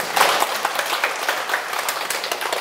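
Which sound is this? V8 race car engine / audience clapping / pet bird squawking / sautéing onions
audience clapping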